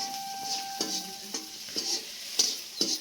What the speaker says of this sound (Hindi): ये देख सकते हो मिर्चा भुंजा के चालू हो गए, फोरन डलाए के बाद में मिर्चा आ गए, हरा मिर्चा